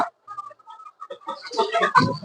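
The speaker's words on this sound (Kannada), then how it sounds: "ಇಲ್ಲಿ ಬರೀ ಮೊಟ್ಟೆ ಕೋಳಿಗಳು ಮಾತ್ರ ಇರೋದು" Native country laying hens cluck on an egg farm, with sparse soft calls at first building to a busier cluster of clucks toward the end, fairly close and with no talk.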